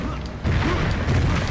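A grenade goes off in the video game Painkiller Hell and Damnation, a loud low boom with a rumbling tail that sits among dense game noise and other thuds. Nobody speaks.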